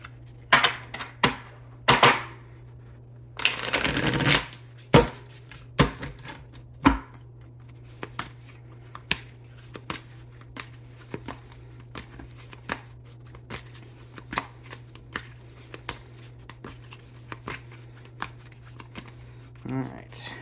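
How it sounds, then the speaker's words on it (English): Tarot cards get a quick riffle shuffle, one dense rattling burst near the start, surrounded by sharp taps and clicks of cards being handled and squared, close and crisp. "Let's get one more good shuffle."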